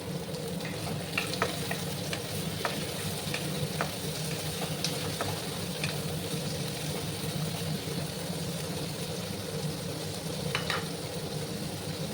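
Desi chicken curry frying in a pan with onion, tomato and cashews, a steady close sizzle with occasional clicks and scrapes of stirring, alone without talk.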